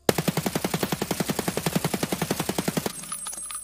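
An AK-101 rifle fires full-auto in Escape from Tarkov during a standing recoil test, a rapid, even string of about two dozen sharp close shots that stops abruptly, leaving a faint ringing tail.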